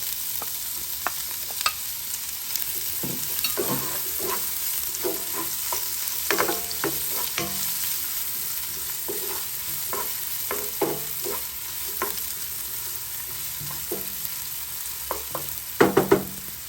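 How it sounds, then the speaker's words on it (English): Onions frying in a little oil hiss steadily close by, with frequent utensil stirs and scrapes against the pan, and a few louder clatters near the end. "I'm going to add the onions to this oil."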